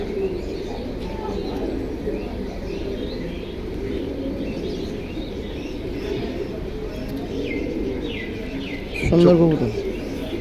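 Pigeons for sale coo softly in a steady, close, low murmur, with a louder burst of cooing near the end and voices in the background.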